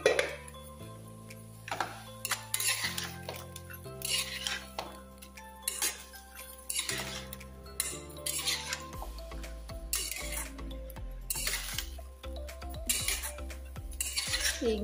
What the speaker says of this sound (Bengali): এই যে লাউ একদম কমে গেছে, লাউ ভাজি হইতেছে।